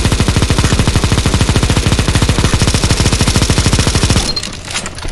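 Sustained automatic gunfire from CS:GO on a zombie escape mod map, a fast, even stream of loud close shots for about four seconds that then breaks off into quieter scattered noise.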